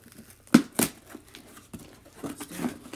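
Wrapping paper on a Christmas present crinkling and tearing in a few quick, close rips and rustles, fairly quiet with no talk.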